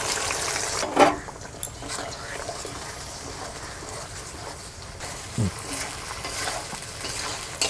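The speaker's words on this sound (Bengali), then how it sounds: "মশলাটা তেলে দিয়ে কষবো" Ground spice paste fries in hot oil for a chicken curry, giving a continuous close sizzle broken by a couple of sharper stirring knocks and scrapes.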